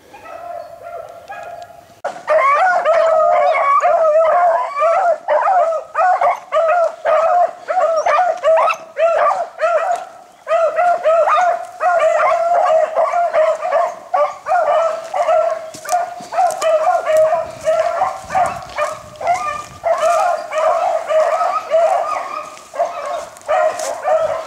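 A pack of hunting hounds bays and barks continuously on a long run after rabbit, loud and close, with overlapping yelps and whimpers and a few brief gaps between bursts.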